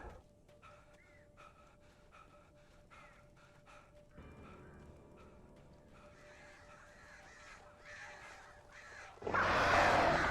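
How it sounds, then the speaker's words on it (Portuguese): Crows cawing in the Alan Wake video game, a string of repeated harsh caws over a dark ambient bed that swells into a loud rushing burst at the end. "esses corvos acho que são os mais chatos"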